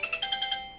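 A mobile phone ringtone chimes in a quick run of about six bright, evenly spaced tones, close and clear with no talk over it.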